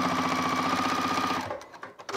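A new sewing machine runs a steady, rapid stitching rhythm at close range for about a second and a half, then stops, leaving a few faint clicks and handling sounds.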